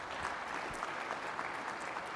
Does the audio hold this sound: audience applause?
yes